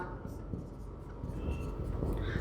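Marker or chalk strokes scratching across a classroom board during a Hindi-medium probability lesson, a steady scraping texture running the whole time with a constant room hum beneath.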